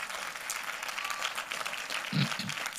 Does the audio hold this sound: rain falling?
no